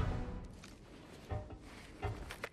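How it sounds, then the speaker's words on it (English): Slow-move footsteps on a metal surface in the Arena Breakout video game, a few soft clanking steps spaced under a second apart, faint and close with light metallic ring. "So here's the metal noise that you will make when you're slow moving."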